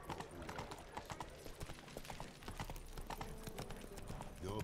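Geralt's horse Roach galloping in The Witcher 3: Wild Hunt, a rapid, steady clip-clop of hooves at moderate distance over a soft ambient bed, with no talk.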